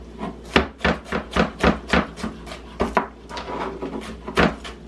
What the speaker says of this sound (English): Just keep chopping it up until it's small.